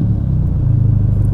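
Ferrari Portofino M twin-turbo V8 with a Novitec exhaust in comfort mode, a steady deep idling rumble, close and loud and without talk.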